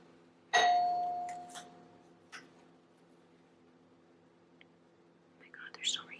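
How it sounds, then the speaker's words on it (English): A doorbell gives a single clear ring that decays over about a second, followed by a few faint knocks and a soft whisper in a quiet room. "they're still ringing the doorbell"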